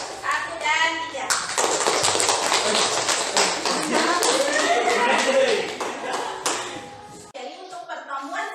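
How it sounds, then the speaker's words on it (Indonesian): A school class applauds a student group after a presentation, a burst of many hands clapping for several seconds that thins out, with children's voices chattering underneath and around it. "kita beri tepuk tangan yang meriah untuk kelompok 1 dan 3"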